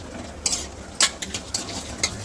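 Vegetables being fried in a pan for white sauce pasta, a soft steady sizzle broken by a few sharp scrapes and clinks of a spoon against the pan, close and fairly quiet, with no talking.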